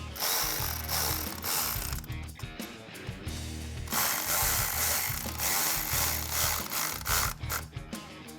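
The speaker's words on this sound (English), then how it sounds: "I can take my 10mm socket on my ratchet and start tightening down those bolts" Ratchet with a 10mm socket tightening valve cover bolts on a 2008-2021 Dodge Challenger, giving steady rapid clicking in bursts, close and fairly loud, with brief pauses between runs.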